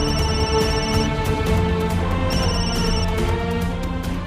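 A telephone ringing during a call to Jhanak, repeated melodic ringtone tones sounding steadily and close, with no talk over it.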